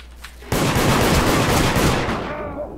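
Sustained automatic gunfire in the multiplayer game Deceit erupts abruptly and rattles on loudly for nearly two seconds, then tails off with a faint quieter stretch before it.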